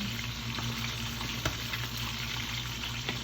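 Sautéed bottle gourd with sardines sizzles steadily in a pan, with a low continuous fry and a few soft scraping stirs, no talking.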